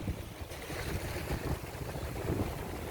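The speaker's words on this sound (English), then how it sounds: "It is a little windy." Wind buffets the microphone on a rocky beach beside wild seas, a steady, rough roar with gusty surges and the wash of surf underneath, with no talking.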